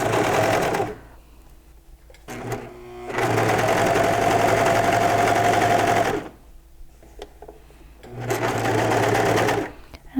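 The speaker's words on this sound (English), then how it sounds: "and I can start sewing" A sewing machine stitching pajama pants fabric, running in three steady whirring bursts separated by short pauses, loud and close, with a voice talking in between.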